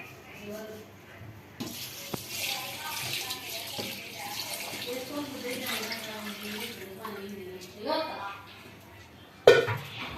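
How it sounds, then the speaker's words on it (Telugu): Water poured by the glassful into a pot for Nellore-style chicken dum biryani, with splashing and clinking of dishes under steady talking from a person nearby. "సో ఇప్పుడు నేను కరెక్ట్ గా 7 glasses వాటర్ వేస్తున్నాను"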